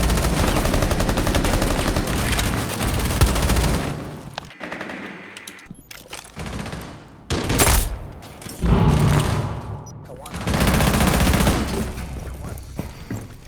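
AK rifle fire in Rainbow Six Siege during a college esports match, with loud rapid automatic bursts and layered gunshots that come in long stretches, briefly drop off, then return in dense volleys.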